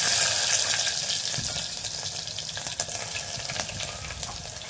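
Steady, close sizzling of garlic frying in hot oil after mustard seeds, a continuous crackling hiss with small pops and no voices.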